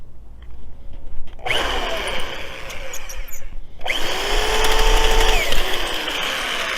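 A handheld power drill whirs loudly in two long bursts separated by a brief pause, with a grinding, rattling edge while working on a step stool, close and without talk.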